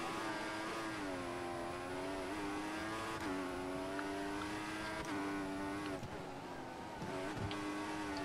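Formula 1 race car engines in the F1 2014 video game at the Bahrain Grand Prix, a steady high-pitched engine whine with shifting revs throughout, under a voice talking over it.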